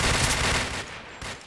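Rapid bursts of automatic gunfire from the shooter game Point Blank, a dense rattling volley that cuts off briefly and then resumes.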